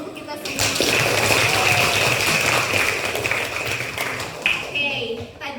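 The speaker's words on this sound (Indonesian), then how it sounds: "Berikan aplaus untuk kita semua." A classroom group applauds together, steady dense clapping that carries on for several seconds at close range, with a voice speaking over it near the end.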